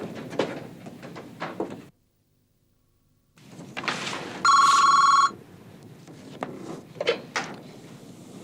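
A telephone rings once in a short electronic trill amid room noises and movement, after a moment of near silence.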